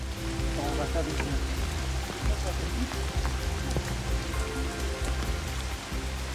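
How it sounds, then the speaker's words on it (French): Rain falls steadily near a river gorge in Brittany, a dense, even hiss of drops with scattered small patters, continuous and fairly close, with faint voices underneath. "quand soudain la pluie fait son apparition"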